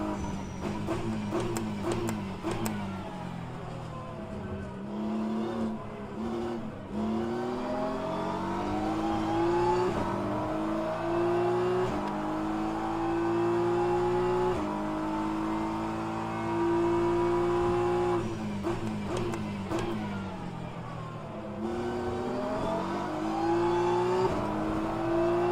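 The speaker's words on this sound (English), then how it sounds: "Look at that Porsche pulling away like it's a different class car." A Porsche race car engine drones and rises through the gears in a racing game at Spa-Francorchamps, steady and close with repeated upshifts and a long sustained pull.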